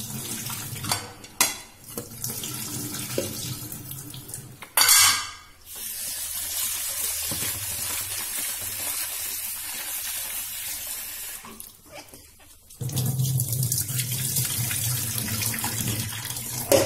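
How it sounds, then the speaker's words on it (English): Tap water runs and splashes in a kitchen sink while boiled soya chunks are drained and rinsed in cold water, with bursts of pouring, a loud splash, quieter trickling stretches and a strong rush near the end. "Now we will drain the water."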